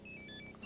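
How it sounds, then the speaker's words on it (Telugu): A mobile phone ringtone plays in a short, bright electronic melody of tones. It sounds soft and a little distant, with no talking over it. "ఫోన్ రింగ్ అవుతున్నా ఫోన్ తీయడు."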